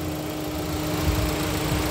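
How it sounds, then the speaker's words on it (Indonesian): A 2019 Mitsubishi Xpander Sport with a front-engine, front-wheel-drive layout idles, producing a low, steady, smooth hum with a faint, even vibration and no revving. "Mesinnya ini hidup, tapi seolah-olah kayak tidak hidup, saking halusnya teman-teman."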